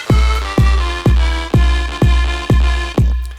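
Small electronic clap samples with delay decorate a house beat, landing over a steady pounding kick drum and sustained synth chords in a house production, with evenly spaced hits throughout.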